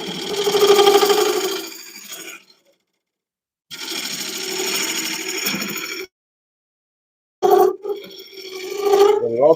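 A gouge cutting an oak bowl on a wood lathe, three bursts of loud, close, buzzing shaving noise separated by stretches of silence.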